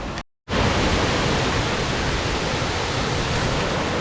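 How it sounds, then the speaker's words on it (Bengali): A dense, roaring rush of Leke Leke Waterfall close by, loud and unbroken after a brief cut at the very start. "আর এইটা হচ্ছে ঝর্ণা"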